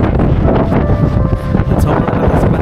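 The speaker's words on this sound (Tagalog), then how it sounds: "At sobrang lakas pa ng hangin" Strong, cold wind at Hong Kong's Victoria Peak buffets the microphone with constant rumbling roar and gusty swells throughout, loud and close.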